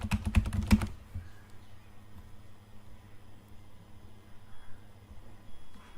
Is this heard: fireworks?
no